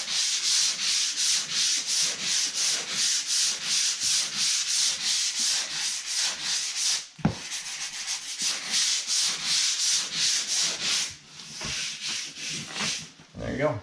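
Steady, rhythmic scraping of sandpaper across a drywall patch in quick repeated strokes, with a brief pause partway through before the rubbing resumes.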